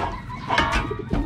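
Pigeons coo softly in a loft, low murmuring calls repeating close by over a faint background hum.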